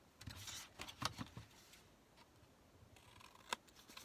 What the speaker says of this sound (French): Je coupe mes angles.